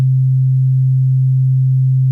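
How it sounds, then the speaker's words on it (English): A steady, pure low C sine tone from a sine wave oscillator on Ableton's Wavetable synthesizer, held loud and unchanging for about two seconds with no other sound. "So I'm just going to play low C here through a sine wave oscillator on this Wavetable"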